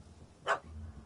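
A single short bark from a small dog rings out once in The Witcher 3 video game, fairly close, over low background ambience.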